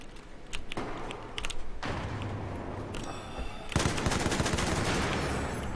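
Gunfire in Battlefield 4, with sharp bursts of rapid shots in quick clusters, a brief pause, then heavier sustained firing, loud and close against game background noise.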